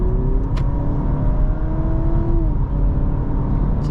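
A 2024 Honda Civic Sport speeds up to pass slower cars, its engine note climbing steadily beneath a constant roar of road and wind noise inside the cabin.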